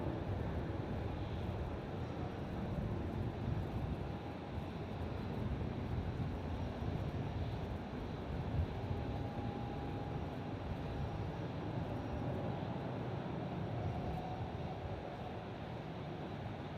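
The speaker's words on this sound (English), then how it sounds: "That's Qantas 838 off to Darwin there." A Qantas airliner takes off from Melbourne Airport bound for Darwin, its engines a steady broadband roar that holds a constant level throughout, heard from a distance with no voices.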